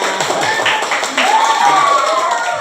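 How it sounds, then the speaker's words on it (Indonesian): Group of pupils clapping hands together in a classroom, quick irregular claps in a short burst, fairly loud and close, with voices talking over them. "tepuk tangan untuk kita semua"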